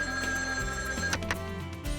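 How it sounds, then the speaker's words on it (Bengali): A cartoon telephone rings in a loud electronic trill, repeated bursts of bright ringing tones over a short stretch, with no voices. "এই ফোনটা এসপি সাহেবের ফোন"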